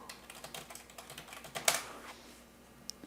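Someone types on a computer keyboard while writing code, giving soft, close, irregular key clicks with one sharper keystroke near the middle, quiet and without talk.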